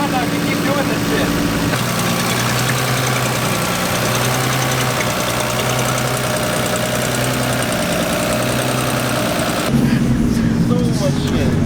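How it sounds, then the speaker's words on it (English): A drift car's engine runs steadily throughout, a loud, continuous mechanical drone with a faint knocking texture, and voices talk over it. "Let your car warm up before you start revving up."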